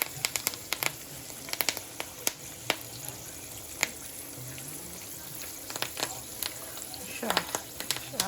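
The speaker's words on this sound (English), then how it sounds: "here is the rest of the fish that I am going to be frying tonight" Seasoned fish fries in a pan with a soft, continuous sizzle broken by scattered sharp pops and crackles, heard fairly close and fairly quiet.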